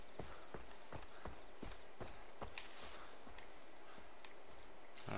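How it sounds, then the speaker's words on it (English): Footsteps of a player character in the Far Cry 3 video game, a steady rhythm of soft thuds about two per second under a quiet ambient bed. "Footstep sounds similar too."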